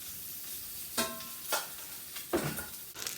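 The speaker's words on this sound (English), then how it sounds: "let it sizzle on the grill" Carnitas meat sizzling on a grill beside warming tortillas for street tacos, a soft steady frying hiss broken by several scraping, stirring clinks of a spatula at irregular intervals.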